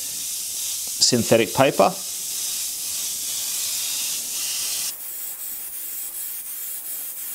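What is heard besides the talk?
Iwata Eclipse airbrush spraying paint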